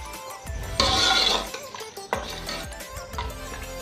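Water poured into a pot of beef korma makes a loud splashing rush that lasts under a second, followed by scattered clinks and scrapes of a utensil against the pot.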